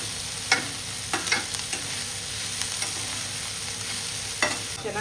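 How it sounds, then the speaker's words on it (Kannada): Onions frying in a pan with salt for a Karnataka-style onion egg palya, a steady sizzle with a few sharp spatula scrapes and stirring clicks, close and moderately loud. "ಸ್ವಲ್ಪ ಫ್ರೈ ಆಗಬೇಕು."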